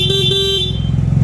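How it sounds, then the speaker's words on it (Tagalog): A short, thin stock horn toot from a Yamaha TMAX 560 scooter, two quick beeps merging into one, over an idling engine rumble. "Ito yung stock horn,"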